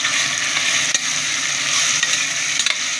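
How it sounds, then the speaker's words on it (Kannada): Soybeans frying in hot oil for a soybean biryani, a loud, dense sizzle with spoon stirring scrapes breaking through now and then, no one talking. "ಸೋಯಾಬೀನ್ ಎಣ್ಣೆಗೆ ಚೆನ್ನಾಗಿ ಫ್ರೈ ಆಗಬೇಕು"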